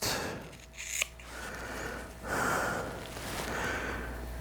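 Scissors snip gray dun hollow tie craft hair while a saltwater salmon fly is being tied: one quick, close snip, quiet against faint background noise, with no talking.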